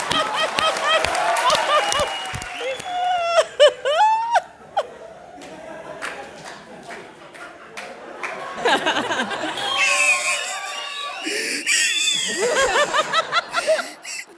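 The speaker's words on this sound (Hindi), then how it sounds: "जोरदार तालियां मेरे विपुल शाह के लिए।" An audience at a comedy stage show claps and laughs together, the clapping swelling and fading in bursts amid loud snickers and chuckles, with voices in the crowd.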